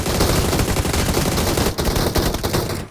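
Rapid automatic gunfire from a shooting video game, dense and loud bursts crackling almost continuously before cutting off near the end, with no voices over it.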